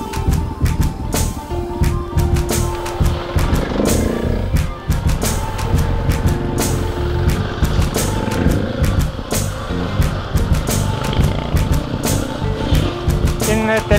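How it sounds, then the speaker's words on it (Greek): Several adventure motorcycles riding on dry, loose dirt in the Pindos mountains, a continuous close engine drone with revs rising and falling, with a voice talking over it. "Τώρα είναι πολλές οι μηχανές."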